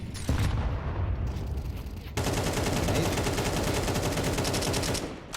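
Sustained automatic gunfire from a Counter-Strike esports match between SAW and NiP, a dense rattling burst that starts loud, briefly thins, then resumes as continuous rapid fire for several seconds before tapering off.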